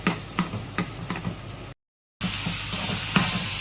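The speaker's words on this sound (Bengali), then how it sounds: "এবার এটাকে ভালো করে কষাতে হবে।" Tomato stir-fried in a pan for matar paneer, with a sizzle under repeated scraping strokes of a spatula, briefly cut to silence before the frying and stirring resume.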